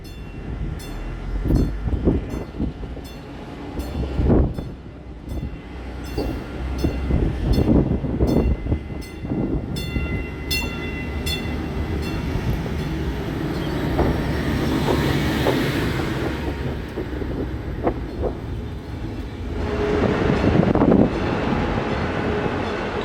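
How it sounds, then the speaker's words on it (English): A Stadler GTW diesel multiple unit train on CapMetro's rail line rumbling along the tracks with rhythmic clicks over rail joints, engine drone rising and falling, and wind buffeting the microphone. "Our train today is a Stadler GTW, a diesel multiple unit."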